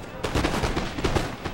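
Musket gunfire in the Napoleon Total War battle game: a rapid, ragged run of overlapping shots crackles loudly and close, like scattered volleys.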